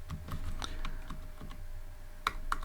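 Quiet typing of Python code on a computer keyboard, a run of soft key clicks with a couple of louder taps near the end, no voice.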